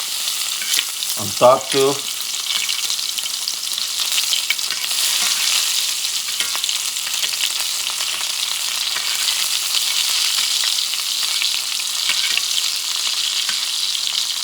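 Steak au poivre frying in a pan with butter, a steady close sizzle running throughout after a brief spoken phrase near the start.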